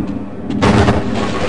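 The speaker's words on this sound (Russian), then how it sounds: "Опа, гранатка." A grenade goes off in the Half-Life video game, a sudden loud booming blast after a brief quiet lead-in, with a rumbling tail that fades over the following second.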